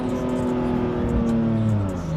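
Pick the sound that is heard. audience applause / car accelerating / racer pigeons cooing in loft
car accelerating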